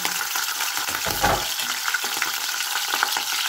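Talakitok fish fries in hot oil in a pan, giving a steady close crackling sizzle with a brief louder spatter partway through and no talking.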